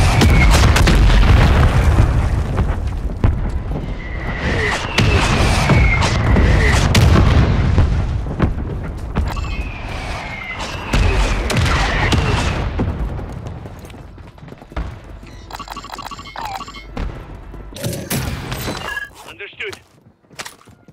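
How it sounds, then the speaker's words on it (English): Mortar strike explosions in Call of Duty land as heavy, rumbling booms that overlap, loud and continuous at first, then thin out into scattered blasts and debris as radio-style voices speak over them. "Friendly mortar strike on the way."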